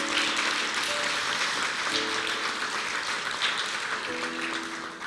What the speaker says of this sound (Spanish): Aplaudamos al Rey de Reyes.